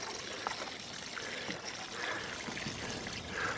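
Liquid fertilizer poured into a tomato bed in a home vegetable garden, a steady trickling pour running continuously at moderate loudness with no talk over it.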